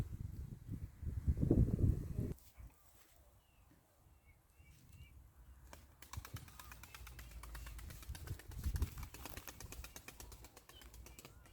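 A young female tumbler pigeon on its fourth flight gives faint wing flaps and soft bird sounds in the open air. A louder burst of flapping comes early, then quieter rustling and scattered chirps follow, with no clear speech.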